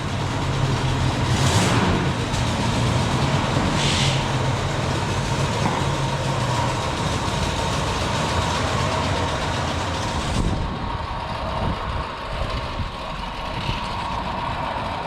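Abandoned Jeep that had sat for 24 years running and moving under its own power, its engine a steady, loud, rough rumble with clattering and noise throughout, easing somewhat near the end.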